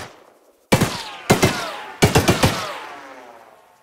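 A belt-fed 1919 machine gun in Choo-Choo Charles fires three close, loud bursts of rapid shots, each ringing out with a long echoing tail, with silence before and no talking.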